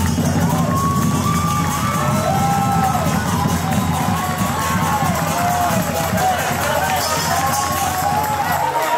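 Football supporters in a stadium after a Thai FA Cup match, a dense crowd roar with shouting, whistles and whoops carrying on steadily, loud and close throughout.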